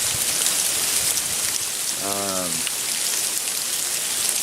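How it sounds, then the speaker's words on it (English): Steady hiss of freezing rain pattering on a taut tent rain fly, dense and continuous, with a brief tonal whine midway through. "it was nice to hear the freezing rain bounce off of it"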